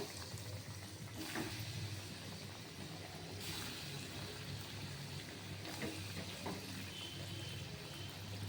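Soya chunks sizzle steadily in hot white oil, a soft and even frying hiss with a few faint clinks, fairly quiet and uninterrupted.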